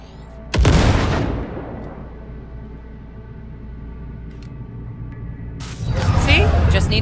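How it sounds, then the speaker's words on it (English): A grenade detonation in Cyberpunk 2077, a sudden loud blast followed by a decaying rumble, then a low hum and a second burst of noisy debris and effects near the end. "Now, detonate the grenade."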